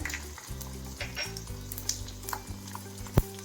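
Garlic, mustard seeds and cumin sizzling in hot oil as a tempering for a ridge gourd and prawn curry, a close, steady crackle with low humming tones and a sharp pop near the end.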